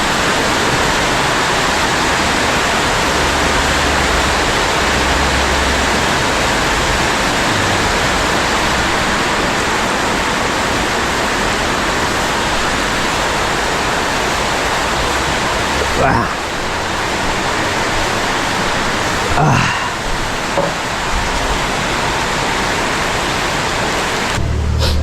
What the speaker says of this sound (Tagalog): Hindi nang nagsawa yung ulan ah.